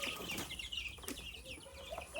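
Several small chickens on a homestead cluck and chirp in short, scattered calls, fairly close, with light rustling between them and no talk.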